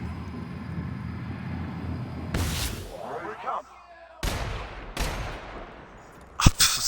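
Gunfire in The Outer Worlds comes as several sharp, loud bursts separated by brief quiet gaps, with a low rumble of background action beforehand.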